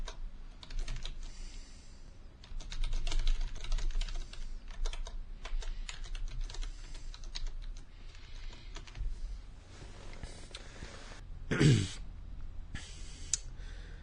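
Computer keyboard typing in bursts of rapid key clicks, with brief pauses and one louder clack near the end, recorded close against a low room hum.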